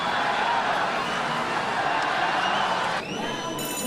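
Boxing crowd at a light heavyweight bout in Townsville, Anthony Mundine vs Brad Mayo in 2002, a steady roar of cheering fans that dips slightly near the end as a higher tone cuts in.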